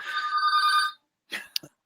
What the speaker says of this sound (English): a real landline ringing